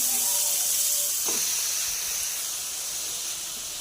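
Chopped onion goes into hot oil with garlic paste, a steady bright hiss and sizzle that holds close and loud, then gradually eases, with a brief clink near the start.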